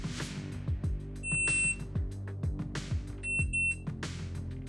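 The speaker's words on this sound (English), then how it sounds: "The timer will give an end signal and finish the session if the number of sets is 1." An SG Timer 2 shot timer gives its end signal as two short, high electronic beeps about two seconds apart, heard over a louder, rhythmic low background sound.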